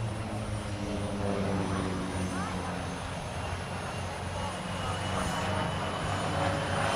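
A P-47 fighter plane built in 1942, heard at AirVenture, gives off a steady, loud piston-engine roar that fills the whole stretch, with a constant rumble and no pauses.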